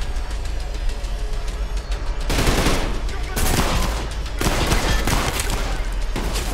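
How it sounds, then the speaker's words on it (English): Rapid automatic gunfire in the fast first-person shooter Trepang2, loud, dense bursts in three long volleys with brief gaps, panicked continuous firing filling the whole stretch. "That was panic firing."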